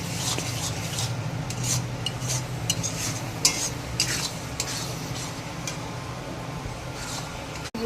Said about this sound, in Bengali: এবার এটাকে ভালো করে কষে নেব। মশলাটা কষা হচ্ছে।